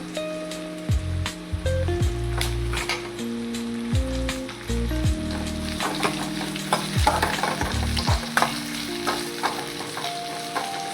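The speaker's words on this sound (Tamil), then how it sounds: "வெங்காயம் போட்டுக்கலாம். அது கூடவே கருவேப்பிலையும் போட்டுக்கலாம்." Onions and curry leaves fry in hot oil with cumin seeds in a pan, sizzling steadily for the whole stretch while a spoon stirs and scrapes in repeated strokes, close up with no talking.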